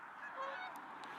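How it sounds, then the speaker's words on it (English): A few faint honks from geese at a distance, brief and soft over a low background hum. "Oh, here comes the geese."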